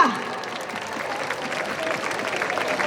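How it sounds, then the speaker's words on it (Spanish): A large outdoor crowd claps and cheers steadily in Valencia's Plaza de la Virgen during the Maredeueta festivities, a dense, continuous wash of applause lasting the whole stretch. "un aplauso para la derecha"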